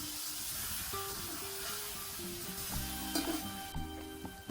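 A sauce-dipped tortilla fries in hot oil in a pan for enchiladas, giving a steady, moderate sizzle and crackle with a few brief clatters near the end and no voices.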